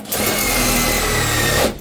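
A steady, high-pitched power drill whine runs continuously for nearly two seconds as a drill bit strips primer coating from a 1964 Plymouth Fury floor panel, close and fairly loud, then cuts off.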